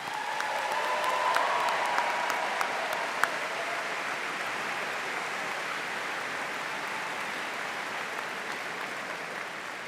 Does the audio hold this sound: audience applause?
yes